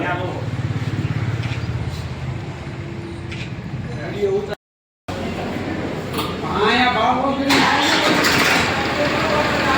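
A Farmtrac 42 tractor engine cranks and catches, then settles into a steady rumbling idle, with a short gap partway through and voices talking over it.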